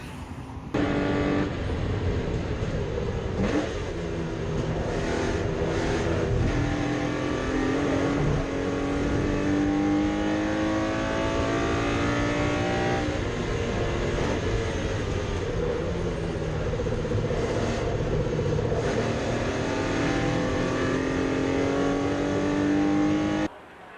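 A TVR Tuscan race car laps Oulton Park in a race, its engine note rising and falling through gear changes, loud and close as it passes, with other cars roaring in the background.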